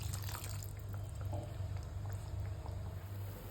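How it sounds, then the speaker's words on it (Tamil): Water poured into a pot of South Indian egg curry (muttai kuzhambu) while it cooks, giving a steady, soft liquid rush over a constant low hum, with no voices. "இப்போ குழம்பு தேவையான தண்ணியை ஊற்றிக்கலாம்."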